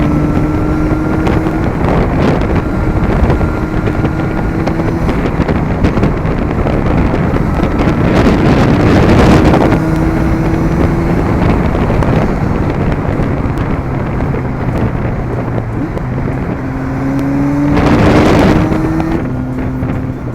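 Kawasaki Z900 motorcycle riding at night, with a steady loud engine drone and strong wind rush throughout, and the pitch rising and falling as the rider shifts gears.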